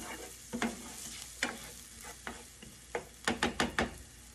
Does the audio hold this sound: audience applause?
no